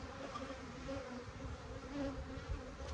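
Bees drone in a steady, close buzzing swarm, the hum wavering slightly in pitch and loudness without pause.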